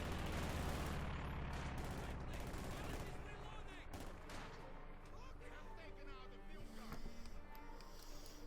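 Grenadier rifle fire crackles during a Company of Heroes 2 battle, a busy fusillade of distant gunshots and explosions running beneath constant commentary.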